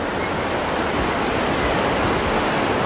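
A river beside a riverside cafe among rice fields in Bogor rushes in a constant broadband wash, steady and fairly loud with no voices.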